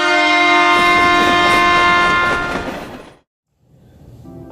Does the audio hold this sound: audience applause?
no